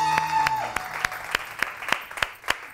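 Studio audience on a Pakistani morning TV show breaks into steady, fairly close applause, with individual sharp claps standing out in a loose rhythm and a brief tone fading early on.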